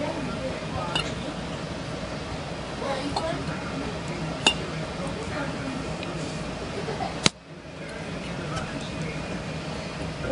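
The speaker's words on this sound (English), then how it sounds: "I'm gonna just pack them into the jars all the way nice and tight to the top" Plums are packed tightly into glass canning jars, with soft clinks of glass and fruit thuds alongside a few sharper knocks, under ongoing background noise.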